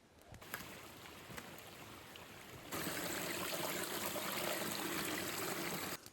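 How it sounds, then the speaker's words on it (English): Water from a stream sloshes into an oak leaf container, a steady broadband trickle and gurgle that gets louder and fuller about halfway through, then cuts off abruptly at the end. "Now we'll go fill it up with water."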